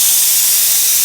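A pressure cooker venting steam, a loud, steady, close hiss of escaping pressure with no break and no voices.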